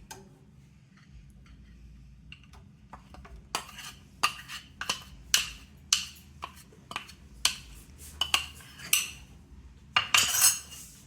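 A spoon scrapes and knocks against a pot as dry ingredients are mixed into a thick date and butter paste, giving a series of sharp, irregular clinks and taps over quiet background.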